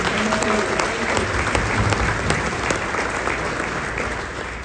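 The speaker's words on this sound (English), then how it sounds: "Can we give a round of applause for them?" An audience applauds military veterans at a plant presentation, sustained clapping that fills the clip at moderate loudness, with a few brief tones and voice traces underneath.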